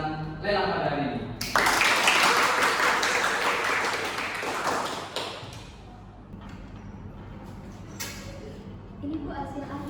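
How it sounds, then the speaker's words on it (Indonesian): A room full of people applauds an auction winner, a burst of clapping that swells and then fades, with voices talking over and after it. "Mari kita berikan tepuk tangan kepada Bapak nomor 6 yang telah menangkan lelang pada hari ini."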